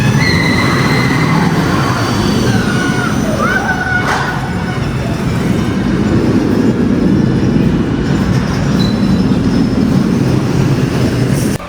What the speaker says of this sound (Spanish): nomás tengo la montaña rusa